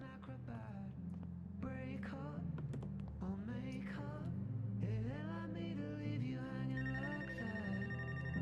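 A phone rings inside the game Life is Strange: True Colors, a melodic ringtone playing over steady background music for several seconds, fairly quiet and with no talking.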